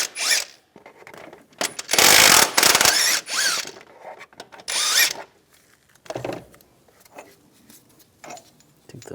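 A hand ratchet with an 18mm socket removes transmission mount bolts on a 1998-2010 Volkswagen Beetle, giving bursts of rapid clicking and metallic scraping that alternate with short pauses, close and fairly loud.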